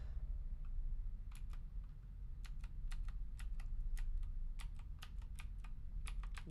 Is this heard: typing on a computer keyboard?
yes